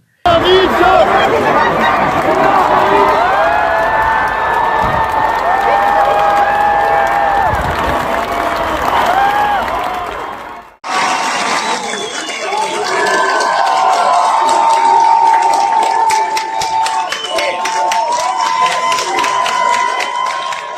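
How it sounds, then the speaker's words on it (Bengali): A dense street protest crowd of students and ordinary people in Iran chants slogans against their government, a loud continuous roar of voices with cheering and clapping that cuts out briefly and then resumes. "ইরানের কিছু ছাত্র ও সাধারণ মানুষ রাস্তায় নেমে বিক্ষোভ করছে, নিজেদের সরকারের বিরুদ্ধে স্লোগান দিচ্ছে।"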